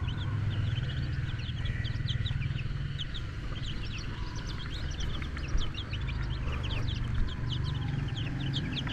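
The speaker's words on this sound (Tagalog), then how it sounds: "Native na manok. Tsaka bibi." Many native chicken chicks and ducklings chirping and peeping continuously, a busy chorus of young fowl over a steady low background hum.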